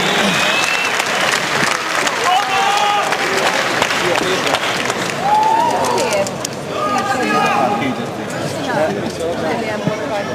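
Crowd at a kickboxing event in Budapest applauding steadily and loudly, with dense clapping that fills the whole stretch, plus cheers and shouts, and an announcer's voice heard over the noise.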